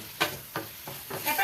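Tomatoes sautéing in hot oil: a continuous sizzle broken by about four distinct scrapes of a spoon or spatula stirring the pan, close and fairly loud.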